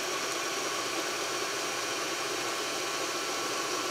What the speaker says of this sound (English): Just going to put our mixer back down and cream the butter just for a minute or so